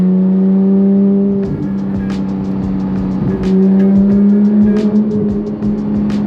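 A sports car engine runs loud and close, holding a steady droning idle before a series of quick rising and falling revs, with no talk over it.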